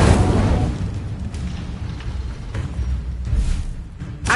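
An Incendio fire spell effect goes off as a loud, close explosion, a deep booming burst. Rumbling crackle and further swelling bursts follow over about four seconds.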